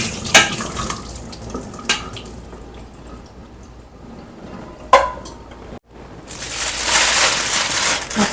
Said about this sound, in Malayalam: ഞാൻ നല്ല വെള്ളത്തിലൊന്ന് കഴുകണം.